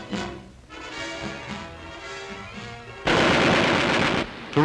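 Aircraft machine-gun fire from naval pilot gunnery training erupts in a loud, dense burst after a stretch of engine drone and background noise, then cuts off briefly and resumes.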